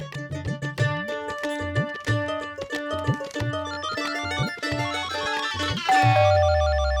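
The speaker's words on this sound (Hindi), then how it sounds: "वो विद्युत की टीचर का फोन आया मेरे फोन पे" A repeating electronic ringtone melody plays loudly and alone, with rhythmic bursts cycling several times before a sustained tone at the end.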